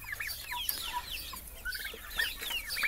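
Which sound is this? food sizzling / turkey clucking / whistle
turkey clucking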